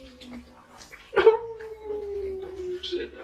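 A dog gives one drawn-out, falling wail that trails into soft whimpering, fairly close and fairly quiet against a hushed background.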